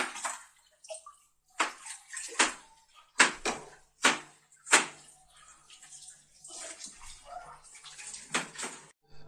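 Running water splashes intermittently into a sink, with irregular bursts of spray and clattering as items are rinsed nearby.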